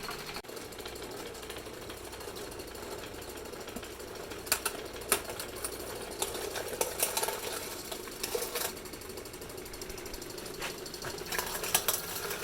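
A belt-driven grinder works through bones for raw dog and cat food, giving a steady, gritty mechanical grinding with sharp clattering cracks and knocks scattered throughout, fairly loud and close with no voices.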